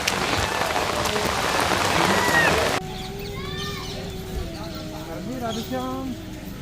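Torrential monsoon rain pours down hard in a steady, loud roar for the first few seconds. The rain then gives way to a quieter scene with bird calls and rooster-like crowing over a softer patter.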